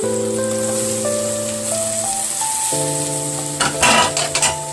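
Chopped vegetables drop into a pan of pasta and sizzle, a steady crackling hiss under sustained music tones, with a louder burst of frying and stirring near the end.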